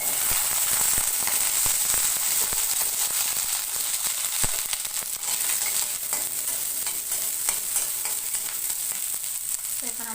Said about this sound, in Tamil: இப்போ நான் பூண்டு சேர்த்துக்கிறேன்.